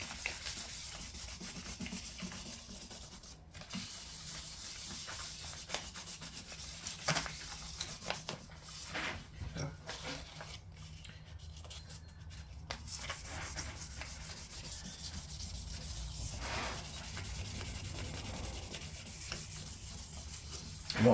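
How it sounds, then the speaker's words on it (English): A repaired varnish finish on a Yamaha guitar headstock is rubbed down with 2000 grit sandpaper, giving a soft, continuous scratchy hiss with short pauses and changing strokes, heard close and alone. "I'll give it a rub with some 2000 grit"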